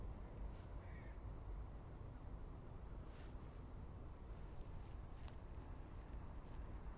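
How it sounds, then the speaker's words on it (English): Eurasian magpie calling at sunrise on Calton Hill in Edinburgh, a few harsh chattering calls heard faintly at a distance over a low wind and ambient hum. "Oh, it's a Eurasian magpie."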